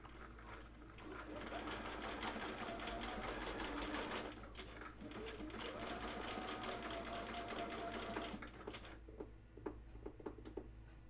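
A sewing machine stitches denim jeans in two long continuous bursts with a short pause between, then stops into softer ticking and handling sounds; a voice speaks faintly at moments.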